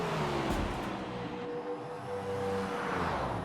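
A stock car revs on the front straightaway at Homestead for burnouts, a continuous engine roar with tones shifting up and down over a few seconds, fairly close and alone.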